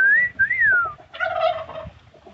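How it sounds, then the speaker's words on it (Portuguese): Turkey gobbling inside a backyard poultry pen with two-storey stalls, a loud close rattling gobble following high whistling calls, no talk over it. "Ali está o peru, ó"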